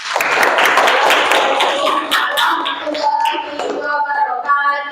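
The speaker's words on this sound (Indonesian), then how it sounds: "Kasih aplaus untuk kelompok 1" A classroom group claps for a presenting group of students during a school Islamic studies session: dense, lively applause from many hands that thins into scattered claps, with faint children's voices near the end.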